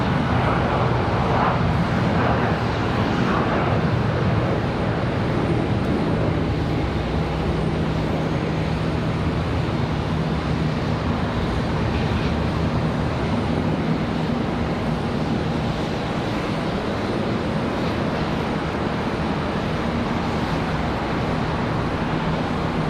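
Jet airliner engines roaring at Charlotte Douglas International Airport, a loud, continuous broadband rumble and whoosh sustained throughout, steady with no pauses.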